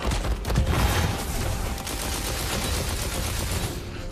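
Continuous, loud gunfire from a player's weapons in the fantasy shooter Wonderlands, rapid shots running together into a dense, steady barrage with no pauses.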